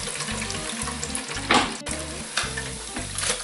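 Blanched potato chips frying in hot oil in a fryer for twice-cooked fries: a steady dense sizzle and crackle with a few louder bursts and light clinks from the basket, no talking.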